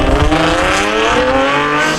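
A loud straight-piped car engine revs hard with a harsh, raspy exhaust roar, pitch climbing and holding, close by and continuous.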